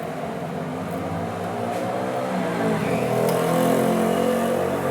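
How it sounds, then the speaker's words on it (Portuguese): A Kawasaki Vulcan 900 motorcycle idles steadily close by, its V-twin engine note even with a slight rise in level toward the end, where a faint irregular noise from the rear cylinder could sit in the rumble. "Um barulhinho no cilindro traseiro tá fazendo."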